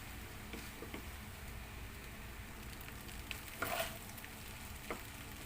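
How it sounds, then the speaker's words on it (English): Vegetable fried rice with kikiam and soy sauce stirred in a pan, a quiet, steady frying hiss with occasional light scrapes and taps, one slightly louder stroke near the end. "I'm putting about 2 tablespoons of soy sauce just to give a good color and just give a good mix."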